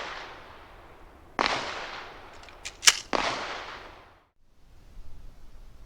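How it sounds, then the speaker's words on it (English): A Mossberg 500 12-gauge shotgun firing buckshot short shells, several sharp loud blasts spaced about a second apart outdoors, each trailing off into a decaying echo. "All right, that's from the Mossberg 500. All 8 rounds, cycled through it just fine."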